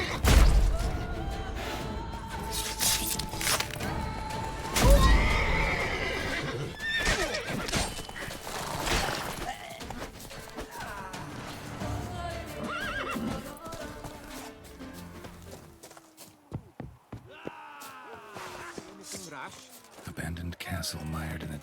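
A horse in The Witcher 3 whinnies and neighs loudly, with clip-clopping hooves, thuds and other game effects mixed in over roughly twenty seconds; a voice talks at points.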